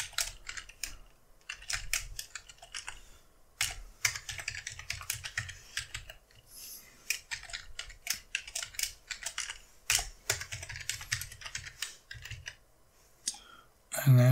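A password being typed on a Mac computer keyboard: close, rapid clusters of key clicks in irregular bursts with short pauses, and a faint low thump near the end.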